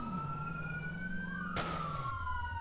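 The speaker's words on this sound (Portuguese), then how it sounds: "Ativar a porra da sirene." Electronic police motorcycle siren from GTA San Andreas, a wailing tone sweeping up and down, steady and fairly loud over a low engine drone, with a brief burst of noise partway through.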